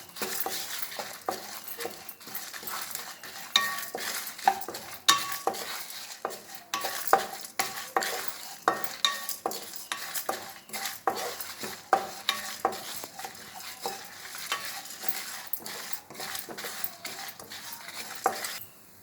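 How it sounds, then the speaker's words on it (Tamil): Dry roasting dal, cinnamon, cloves, pepper and cumin in a pan, with repeated scraping strokes of a spatula and light rattling of spices, close and rhythmic with no talk. "எல்லா அது பருப்பு தனியா எல்லாத்தையும் ஒன்றா பட்டை கிராம்பு மிளகு ஜீரகம் எல்லாத்தையும் ஒன்றா போட்டு நல்லா வறுத்துக்கணும்"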